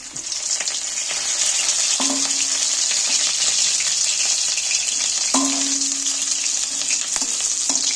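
Marinated rohu fish frying slowly in a pan, a loud, steady hiss of oil with a few soft scrapes and knocks as the pieces are turned.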